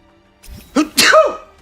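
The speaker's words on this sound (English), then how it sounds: "Sneeze?" A single close, sharp human sneeze, with a short inhaled build-up followed by an explosive burst, heard on a livestream.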